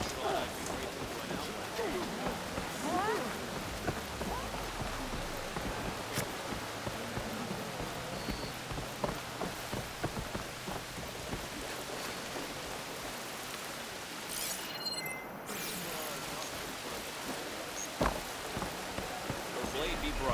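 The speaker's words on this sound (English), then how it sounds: "There's the rain." Steady, soft rain patters continuously in the video game Horizon Forbidden West, with a few brief clicks and faint voices mixed in.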